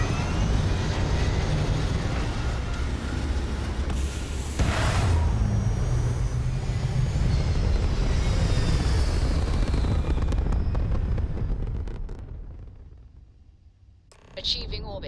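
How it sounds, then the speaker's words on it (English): Spaceship thrusters firing as a ship reaches orbit in the Starfield video game, a loud, sustained roaring rumble that fades near the end, with a voice talking partway through. "thrust is firing."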